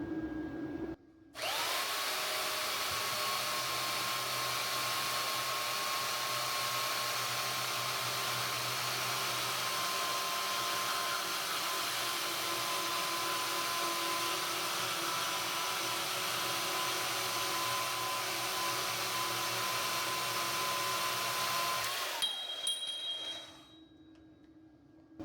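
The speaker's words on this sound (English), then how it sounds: "we're going to take my porta band and we're going to cut all these pipes on the same angle" A portable band saw cuts steel pipe at an angle for a square-body truck bumper build, a steady high whine and rasp that runs for about twenty seconds between a clear start and stop.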